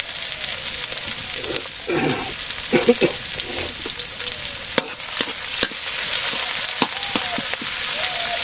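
Food sizzles and fries steadily in a hot pan, with occasional sharp crackles and a few stirring sounds, up close.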